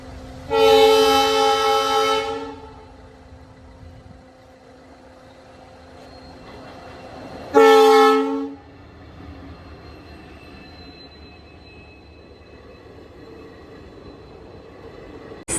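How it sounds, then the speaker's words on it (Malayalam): Two loud, sustained train horn blasts, the second shorter, over the steady rumble of rail cars passing close by. "ട്രെയിന് വരുന്നുണ്ട്"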